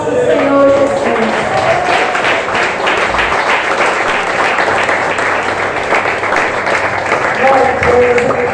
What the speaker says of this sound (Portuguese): Aplauda a palavra do nosso Senhor Jesus.